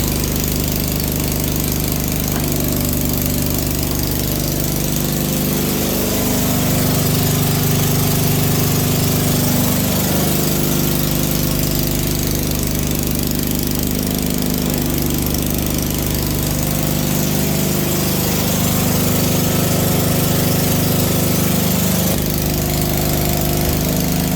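A CASE J74 rotary tiller runs on a tractor, a loud continuous engine drone with knocking, churning texture and slight pitch shifts, close and steady throughout with no voices.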